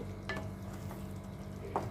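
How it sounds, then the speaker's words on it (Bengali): A soft, steady sizzle of spices frying in oil, with a few light scraping stirs, quiet and close, no talking. "এবারে এটা একটু শুকিয়ে ভাজা হোক, ভাজা ভাজা হোক।"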